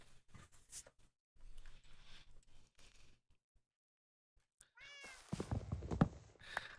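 Dusty, a pet kitten, lets out several short meows close to the mic. Faint handling thumps sit between them, and a louder rustle and clatter comes near the end.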